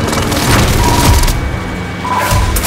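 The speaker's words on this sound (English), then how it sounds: "Enemy precision airstrike." Enemy precision airstrike explosions rumble in Call of Duty: Warzone, a dense run of heavy booms and low thuds rolling on continuously for a few seconds, loud and close.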